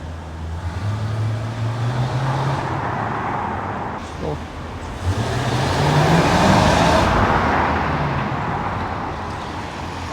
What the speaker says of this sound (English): So you've got a before and after of the racket that the car does actually make.